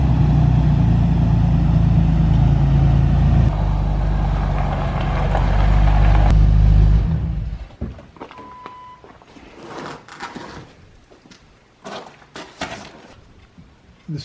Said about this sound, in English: we're going to drive the Jeep around so it's positioned right next to the garage